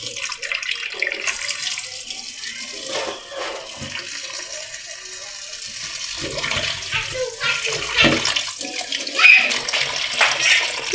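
Tap water runs steadily into a container while fish are set to soak in a home kitchen, with a continuous splashing wash of moderate loudness that swells slightly toward the end and has no talk over it.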